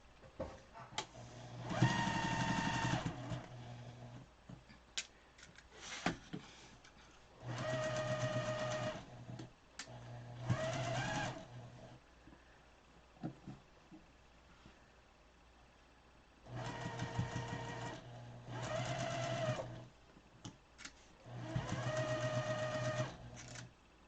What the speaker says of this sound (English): And now you're going to sew that.